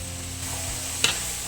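Carrots sizzle softly in a pan while being sautéed for fresh pancit, a quiet frying hiss with a brief scrape of stirring near the middle.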